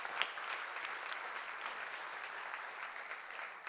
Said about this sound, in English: So let's give another round of applause to everyone that was up here.